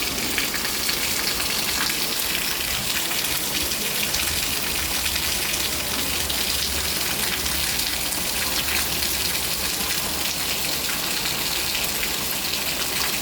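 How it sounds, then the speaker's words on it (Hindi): Heavy rain pours steadily and evenly, a dense continuous hiss of drops close by with no voices. "मगर आज खूब बरस रही है।"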